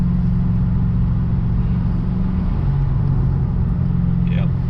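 Lexus RC F V8 engine cruising on the road, a steady low droning rumble with layered harmonics that dips slightly in pitch midway and holds on, with no talk over it.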